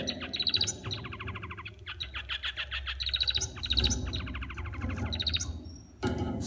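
A male Bengalese finch sings nearby, repeating quick buzzy trilled phrases broken by brief pauses, with high whistled notes, clear and fairly loud in a quiet room.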